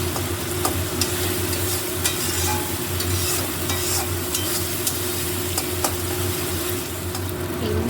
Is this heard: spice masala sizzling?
yes